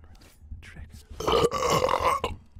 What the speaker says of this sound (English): I actually hate the sounds of burps.